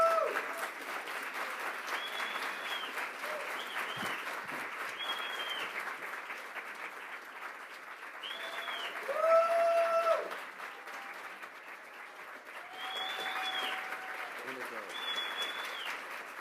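Audience clapping at a book event breakfast, steady moderate applause that swells and fades, with voices and whistling tones mixed over it.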